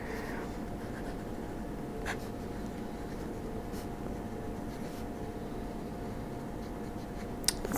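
A Platinum fine-nib fountain pen writes with a soft, continuous scratching that stays quiet and even throughout, with a faint tick near the end and no voices.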